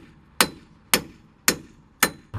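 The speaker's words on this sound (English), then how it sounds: "knock it out with the sledgehammer" Four sharp sledgehammer blows knocking out a broken wheel stud on a 2000 Chevy Cavalier hub, each metallic strike evenly spaced and ringing briefly, close and loud with no talking.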